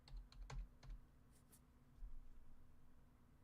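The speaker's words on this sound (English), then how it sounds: "Sorry, I'm one-handed typing here." Someone types one-handed on a computer keyboard, a short cluster of faint, uneven key clicks at the start that then trails off into quiet room hum.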